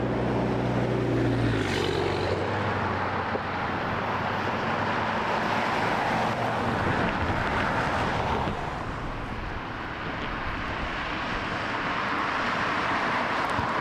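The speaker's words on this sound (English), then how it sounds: "JetBlue coming in on the 19." A JetBlue jet arrives on runway 19 at Las Vegas airport, heard as a steady broad engine roar at some distance that holds for several seconds, then slowly shifts and eases as the aircraft passes.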